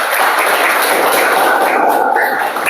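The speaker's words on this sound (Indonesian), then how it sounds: "Oke, tepuk tangan dulu." A group of people in a classroom clapping after a group presentation, a steady, dense wash of hand claps that stays loud and even throughout, with no clear voices above it.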